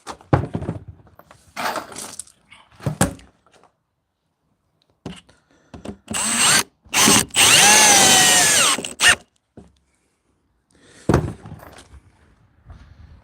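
A power drill drives the final screws into a wooden folding bench, loud close whirring bursts of varying length, the longest about three seconds, separated by silences and light handling knocks.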